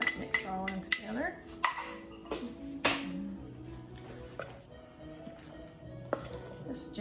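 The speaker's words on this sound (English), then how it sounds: "I'm going to put my baking powder and my salt in with my flour and stir that up pretty good" Baking powder and salt are stirred into flour in a bowl for a blueberry crumble cake, giving a series of close clinks and scrapes of utensil against the bowl, busiest at the start and then sparser.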